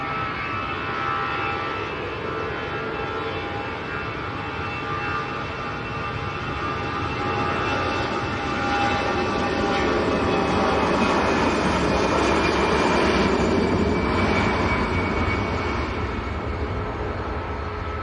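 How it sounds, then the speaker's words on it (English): An Aer Lingus Airbus A320 jet at Manchester Airport gives off a sustained loud engine roar with a whining tonal hum, holding steady and swelling slightly as it passes nearby. "Aer Lingus to Dublin A320."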